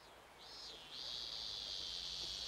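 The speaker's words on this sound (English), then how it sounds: "the cicadas have started chirping" Cicadas in the Wrath of the Ninja video game set up a steady, high, shimmering drone that rises briefly, dips, then holds continuously and moderately loud with no voices over it.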